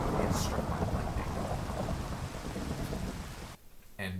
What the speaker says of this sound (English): Get struck by lightning.